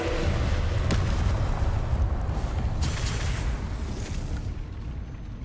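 Fiery Confringo spell blasts in the Hogwarts Legacy video game during a battle, a dense, loud, sustained rumbling roar of explosions with a few sharper bursts, no talking.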